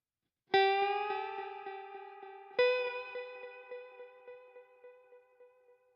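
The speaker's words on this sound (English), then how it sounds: "Let's lengthen the feedback." Two plucked guitar notes ring out, each followed by a long train of repeating delay echoes that slowly fade away.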